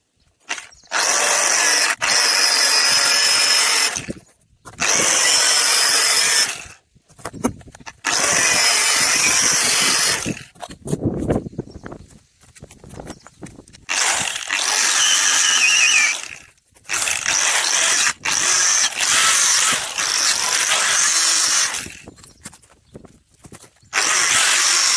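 A power tool with a 1mm cutting disc slices through a part from a Chinese wind turbine, loud harsh grinding in repeated bursts of several seconds each, separated by short pauses.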